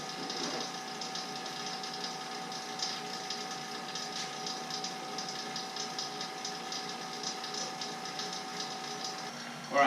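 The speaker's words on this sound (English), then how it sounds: "This pump will be running for an hour, and I'll show you what to look for after that." A vacuum pump hums steadily while evacuating the AC system of a 2003 Mini Cooper, a constant mechanical drone with a tonal whine and faint rhythmic ticking, moderately loud and continuous.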